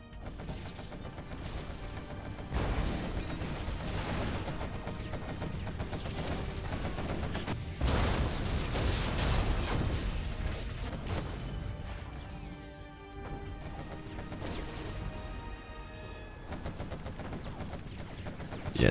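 Continuous battle din from Generals Evolution, a real-time strategy game, with artillery shelling a GLA command center: dense overlapping booms and gunfire at a steady moderate loudness.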